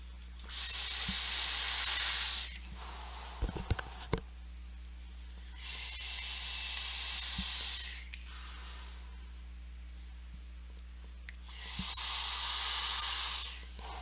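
Three long breathy vaping draws on a VGOD Pro Mech 2 mechanical vape kit, each a steady airy hiss lasting about two seconds, close and fairly loud, with quiet pauses between them and a few faint clicks.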